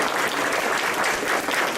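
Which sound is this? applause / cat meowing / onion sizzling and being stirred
applause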